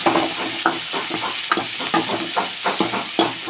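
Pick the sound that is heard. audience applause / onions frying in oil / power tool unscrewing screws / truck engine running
onions frying in oil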